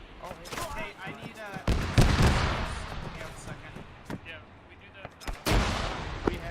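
Gunfire in the military video game ARMA during a firefight with contact from the west, sharp shots and bursts cracking irregularly, some close and loud, while players talk over the radio.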